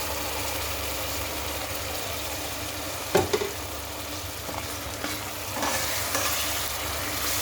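An onion and tomato spice paste sizzles steadily in a hot pan for a gravy curry, a constant close hiss broken by a few sharp scraping clacks as it is stirred, with no talking.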